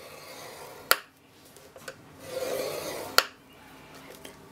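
Cardstock is scored on a scoring board: two sharp clicks bracket a short scraping stroke, with quieter rubbing and taps between them, all close and without talk.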